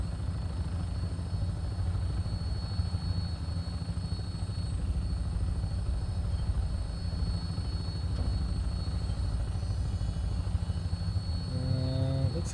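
Vertibird aircraft in Fallout 4, heard as a steady droning rotor and engine hum that stays at an even level throughout, with a faint whine on top and no talk over it.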